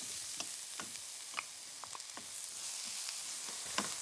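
Cucumbers stir-fry in a hot pan for Chinese cooking, with a steady close sizzle broken by scattered pops and scraping stirs, no voices.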